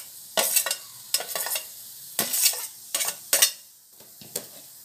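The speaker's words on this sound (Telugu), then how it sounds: "వీటన్నిటినీ గిన్నెలో మిక్స్ చేసేద్దామండి." A spoon mixes vermicelli bonda batter in a bowl, making a series of short, close scraping and squelching strokes in uneven bursts with brief pauses between them. No one speaks.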